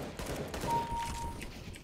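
A Negev machine gun fires in a video game, a short, quiet rattle of rapid shots heard at a distance with no voices.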